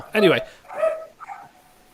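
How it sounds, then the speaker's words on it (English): A pet dog barks close by in three separate bursts, the first loudest and the rest softer, with someone briefly speaking nearby. "There's some fantastic barking."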